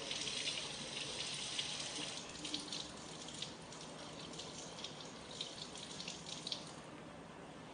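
Tap water runs steadily over a metal specimen at a laboratory sink during sample preparation for microscopic examination, a soft continuous hiss and splash with faint rinsing, fairly quiet and with no talk.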